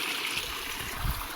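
Water carried down from a hill runs through a channel in a tribal village, giving a steady rushing and gurgling flow that is close and fairly loud, with no talk.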